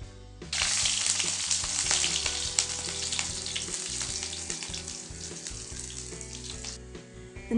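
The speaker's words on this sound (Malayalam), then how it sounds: "കടുക് പൊട്ടിക്കഴിഞ്ഞു നമുക്കിതിലേക്ക് സവാള ചേർക്കാം." Onion added to hot coconut oil with popped mustard seeds, raising a loud, steady sizzle that starts abruptly, continues evenly for several seconds, and then cuts off.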